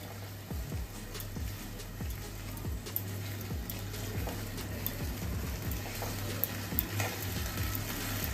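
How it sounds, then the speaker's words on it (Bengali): Onions frying in a pan, being stirred until their raw smell goes; a faint, low sizzle with soft, repeated scraping strokes and a steady hum underneath, no voices. "পেঁয়াজের কাঁচা গন্ধটা যতক্ষণ না যায় ততক্ষণ আমি এটাকে নাড়তে থাকবো।"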